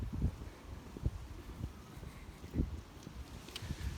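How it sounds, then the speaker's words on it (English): Gusty outdoor wind buffets the microphone in low rumbling bursts, with a steady rushing noise underneath and no voices. "I forgive the wind. It's pretty windy today."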